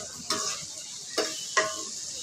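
Vegetable stems and okra stir-fried in a pan, a soft steady sizzle broken by three distinct scraping stir strokes, close and fairly quiet, with no talking.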